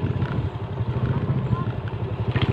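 A motorcycle being ridden slowly and balanced on rough ground, its engine chugging in a steady low pulsing rhythm up close, with someone talking over it.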